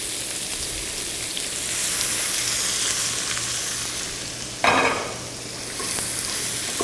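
Red onion hits a pan of lightly browned bacon, giving a steady close sizzle with stirring scrapes and a sharp burst of louder frying as the onion drops in, then settling back to a constant crackle.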